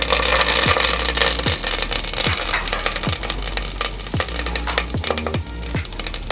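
Curry leaves crackle and sizzle in hot sesame oil inside a heated pressure cooker over a rocket stove, a dense continuous frying hiss with sharp pops scattered throughout, close and loud with no talking.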